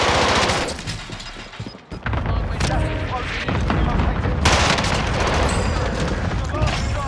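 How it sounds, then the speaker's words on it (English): Rapid gunfire from a pistol in Call of Duty: Modern Warfare crackles loud and close in dense bursts, mixed with booming combat noise, a brief lull, then more shots, with a player's voice talking at times. "With that pistol."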